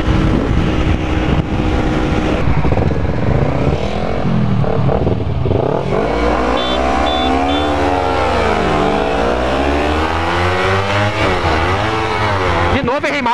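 Two Kawasaki Ninja 250R motorcycle engines roar up close, pitch sweeping up and down as they rev and accelerate through the gears, loud and continuous.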